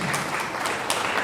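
An audience claps steadily at a Tamil devotional talk about the Meenakshi Thirukalyanam festival in Madurai, with dense, even applause and no voices over it.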